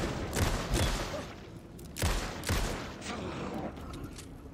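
Gunfire in the survival-horror game Alan Wake II, several sharp shots ringing out in quick bursts with echoing tails over a low ambient rumble, no voices.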